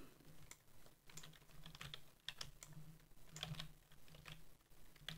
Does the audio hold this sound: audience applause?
no